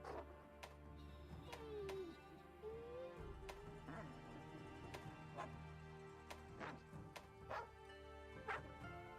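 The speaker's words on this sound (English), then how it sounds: "Well, it doesn't speak, but it does bark." A dog companion in a Monster Hunter–style video game gives several short barks and yips at irregular intervals, heard faintly among game effects and background tones.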